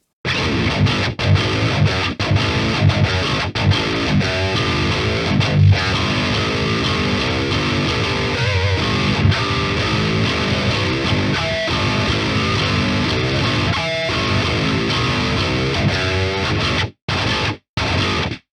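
Heavy, down-tuned distorted electric guitar chugs and riffs loudly and continuously, cutting out briefly near the end.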